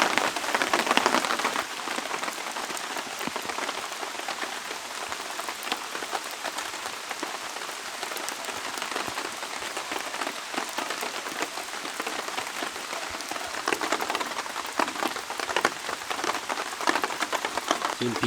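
Heavy rain pours steadily over a forest campsite at Deogyudae campground, a dense, continuous patter of drops striking surfaces nearby at a constant loud level throughout, with no voices.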